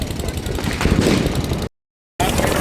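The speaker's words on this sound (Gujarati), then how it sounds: "મસ્તાના અહીંયા ફટાકડા ફૂટી રહ્યા છે" Firecrackers burst during a Diwali celebration at the Race Course in Rajkot. A dense, loud, crackling roar of explosions continues, then cuts to silence before resuming.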